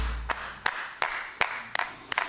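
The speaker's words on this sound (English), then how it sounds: "Clap your hands in front of you." About six sharp hand claps land at a steady, even pace during a children's action-song routine, each one crisp and fairly close, separated by brief quiet gaps.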